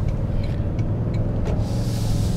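The twin-turbo V6 of a 2022 Toyota Tundra 1794 Edition pickup drones steadily and close, a low, even engine hum across the short stretch, with a faint whoosh near the end.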